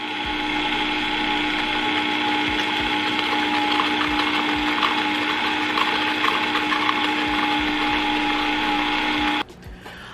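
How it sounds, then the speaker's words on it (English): A stand mixer beats sugar, butter and cream cheese into a cake batter, giving a steady, close whirring hum that holds evenly for about nine seconds before cutting off abruptly near the end. "we're gonna mix the sugar, the butter, and the cream cheese until it is light and fluffy"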